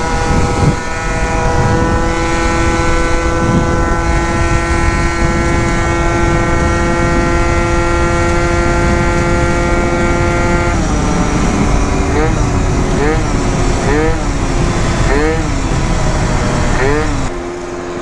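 A 70cc Yamaha Zuma scooter with a new pipe and pulley setup runs at a steady high-pitched drone, then the engine note wavers up and down repeatedly near the end. Talk is heard over it.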